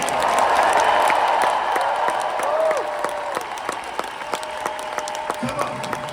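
Audience applause with scattered shouts fills the room at a motivational speaking event, a dense steady clapping that thins toward the end.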